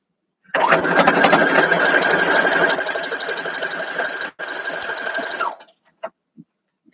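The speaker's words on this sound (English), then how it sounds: "I'm going to go ahead and sew it" Sewing machine stitching vintage farm girl quilt block pieces in one steady loud run of rapid mechanical clatter lasting about five seconds, with a short pause midway, followed by a few faint clicks.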